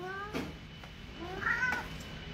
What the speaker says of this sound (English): Check out this cat.